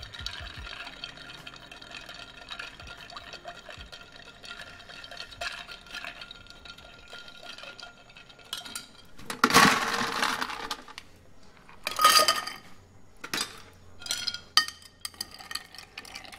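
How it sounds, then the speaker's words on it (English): Ice clinks and rattles in a mixing glass as a vermouth-based gin cocktail is stirred. Quiet swirling gives way to louder bursts of clattering ice in the second half. "It doesn't have a lot of gin in it, so I'm only going to stir for 20-30 seconds."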